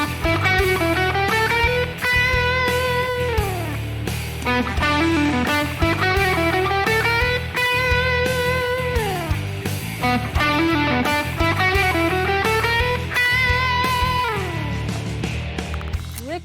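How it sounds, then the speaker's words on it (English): Distorted electric guitar lick with bends played over a loud hard rock backing track with pounding drums, continuous and up front throughout, repeating similar phrases. "now I'm going to play this lick over a rockin' hard rock backing track"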